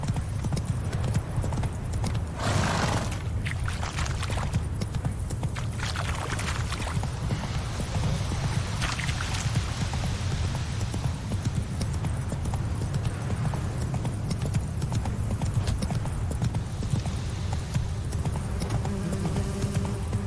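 Horse hooves clip-clop at a steady gallop through The Witcher 3 game world, a continuous rhythmic drumming that holds close and loud for the whole stretch, with a brief whinny and faint ambient game sound beneath.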